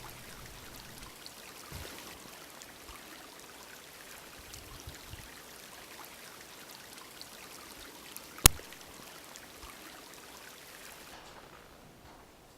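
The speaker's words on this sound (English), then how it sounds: "All the creek in here, like Jackson Creek, Coyote Creek, Bedford Creek, they all run into the Iskood River" Creek water flowing and trickling steadily in a salmon river watershed, a soft continuous wash with small splashes, one brief sharp knock partway through.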